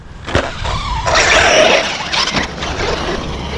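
Tekno ET48 RC cars racing around the Lake Chollas track, their high-pitched electric whine and tire squeal sweeping past loud and close, with brief skids as they corner.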